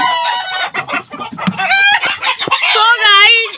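Chickens of Fayoumi and Sonali breeds clucking and squawking close by in a backyard flock, a busy run of overlapping calls with a rooster-like crow near the end.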